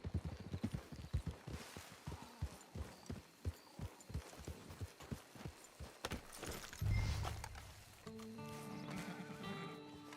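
Horse hooves clip-clopping in Red Dead Redemption 2, a steady run of close, rhythmic hoofbeats that stops with a snort and whinny, followed by a sustained tonal musical sting.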